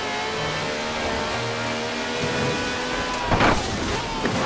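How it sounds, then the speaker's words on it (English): A V12 engine of over 750 horsepower in a taxi in Forza Horizon 4 revs steadily with a droning, harmonic tone, then surges into a louder, rougher burst of throttle near the end, heard close and alone. "No clattery diesel engine here. This has a V12 with over 750 horsepower"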